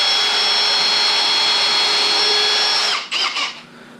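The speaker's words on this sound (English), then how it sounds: "I'm going to just take a screw hole here, put a nice little pilot hole" A power drill bores a pilot hole into a wooden workbench, a loud steady high whine held for about three seconds before it winds down with a few short bursts.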